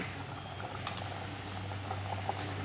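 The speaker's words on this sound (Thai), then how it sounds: "น้ำก็เดือดได้ที่แล้วครับ แกงส้มเรา เริ่มจะเปื่อยแล้วล่ะ" Thai sour curry (kaeng som) boils in a pot, a soft, steady bubbling heard quietly and up close with no voices.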